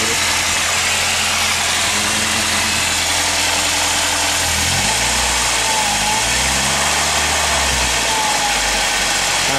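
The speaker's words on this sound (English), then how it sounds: "I'm gonna show you guys what a bad alternator bearing sounds like." A 1995 Saturn car idling with a bad alternator bearing, a steady loud engine drone with broadband noise and a low wavering pitch, with no voices.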